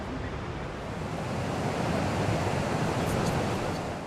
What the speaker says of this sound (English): Way bigger rapids and not so many rocks